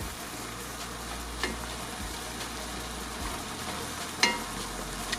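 Lasagna filling sizzles in a pan as it is stirred and folded over, a soft steady fry with a low hum underneath and an occasional faint scrape of the utensil.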